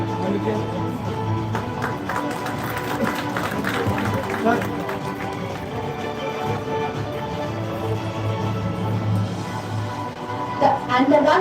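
At an International Women's Day celebration, an audience claps for the poster competition winners, a dense, continuous patter of hands with crowd murmur and some talking mixed in.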